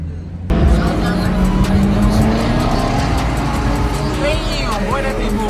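A supercar at a car meet accelerates away loudly, its engine note climbing in pitch over several seconds, close and sustained, with people talking over it.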